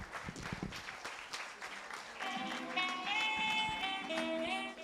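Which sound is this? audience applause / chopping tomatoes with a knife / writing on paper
audience applause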